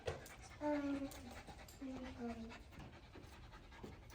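A golden retriever pants softly with quick, faint breaths and a few whiny tones, close by, while people talk quietly in a room.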